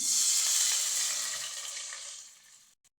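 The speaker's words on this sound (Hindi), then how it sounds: "मैं इसमें शामिल करूँगी 1 गिलास पानी।" Water from a glass poured into a kadai holding hot cooking oil and green cardamom pods, a steady hissing splash that fades over a few seconds and ends abruptly.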